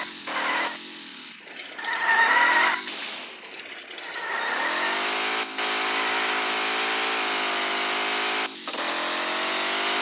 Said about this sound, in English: This truck don't even want to move on these tires.